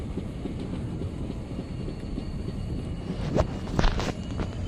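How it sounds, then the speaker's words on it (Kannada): Sindhanur Express pulling into Chikkabanavara railway station, a steady low rumble of rolling wheels and carriages with a few sharper clanks and knocks toward the end, fairly close and moderately loud. "ಚಿಕ್ಕಬಾಣಾವರ ರೈಲ್ವೆ ಸ್ಟೇಷನ್ ಒಳಗೆ ಹೋಗ್ತಿದೆ."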